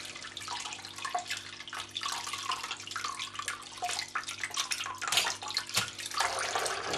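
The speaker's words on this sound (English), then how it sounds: "We can now rinse this thoroughly underneath the tap again using" Ordinary tap water runs and splashes over a telescope mirror held under a sink faucet, a continuous close rush with irregular spattering bursts.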